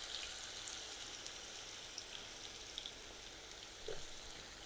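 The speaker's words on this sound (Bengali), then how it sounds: "এই তেলে আমি আলু দিয়ে দিচ্ছি কয়টা" Cut potato pieces frying in hot oil for a masala aloo bhindi curry, a steady dense crackling sizzle running throughout at even loudness, with a brief louder bubbling burst near the end.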